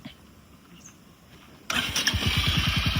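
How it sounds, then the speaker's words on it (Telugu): A 2025 Royal Enfield Hunter 350 motorcycle engine fires up abruptly after a quiet stretch, then settles into a loud, steady, close-up idle with a rhythmic low thrum. "రైట్ సైడ్ కన్నామంటే కనుక ఇంజన్ అయితే ఆన్ అవుతుంది"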